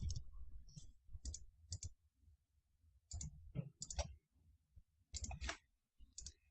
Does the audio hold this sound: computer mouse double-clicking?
yes